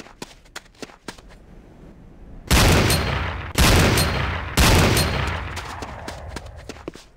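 Gunfire at a firing range in the video game Command & Conquer Renegade: three loud, separated bursts of shots ring out after scattered lighter clicks and steps.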